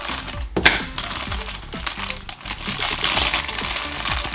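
Plastic packaging around Capcom Monster Hunter dragon figures being handled while unboxing, a close, busy run of crinkles, crackles and small clicks that comes in irregular bursts with no talking.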